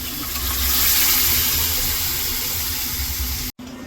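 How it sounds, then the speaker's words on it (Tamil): Dal is poured from a pot into a spinach curry, a steady loud liquid rush and splash close by, continuous for a few seconds before cutting off abruptly. "பருப்பு எடுத்து ஊற்றுங்க"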